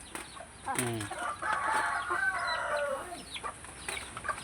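Pet chickens of Boston and Texas breeds cluck softly while feeding, a few short calls close by over a steady busy background, with no talking.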